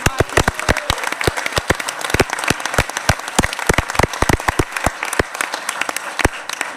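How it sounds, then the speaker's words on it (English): Loud, dense audience applause fills a city council swearing-in ceremony in Charlotte, with many sharp overlapping hand claps sustained steadily from start to finish. "we ought to give a big hand of applause"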